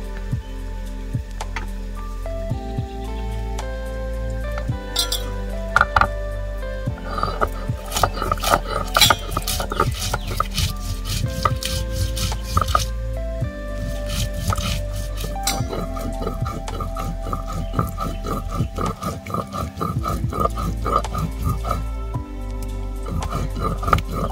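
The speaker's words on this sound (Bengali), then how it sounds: "এবারে আমি বেটে নেব শুকনো লঙ্কা আর কটা কাঁচা লঙ্কা, একসঙ্গে আমি বেটে নেব" Dried and green chillies are ground together by hand, giving a continuous run of scraping, knocking and clinking strokes, close up and fairly loud, with a few sharper hard taps along the way.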